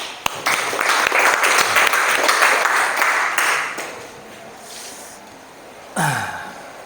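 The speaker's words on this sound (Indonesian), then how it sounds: "tepuk tangan dulu buat kita" Classroom group clapping in applause, a dense burst of many hands for about four seconds that fades out, followed by a short voice.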